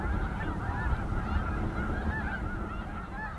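A flock of snow geese honking continuously at a moderate distance on a slough, many overlapping calls over a steady low rumble of wind.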